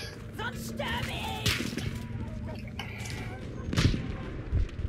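Gunfire in the shooter game Battlefield V, with several sharp shot cracks and booms over a rumbling battlefield backdrop, one heavier blast near the end.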